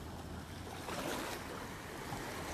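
Waves from a passing motorboat wash along the shore of Lagoa da Conceição, a faint, continuous rushing of water with no voices.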